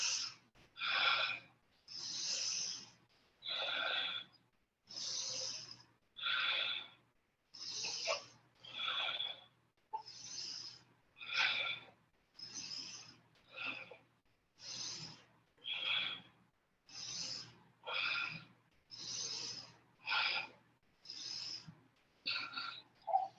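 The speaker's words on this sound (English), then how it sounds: "So inhaling in and really filling up that chest and heart," Rhythmic yoga breathing in a Kundalini kriya exercise: a long, even series of airy, close breaths, about one per second, each a separate hissing burst with brief silences between.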